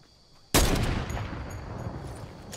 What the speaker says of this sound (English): Oh, he's sniping.